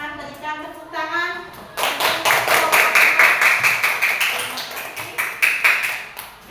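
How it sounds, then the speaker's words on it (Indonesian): A small group in a classroom claps in a quick, even rhythm for several seconds, right after a voice speaks; the clapping is close and lively. "silakan berikan tepuk tangan"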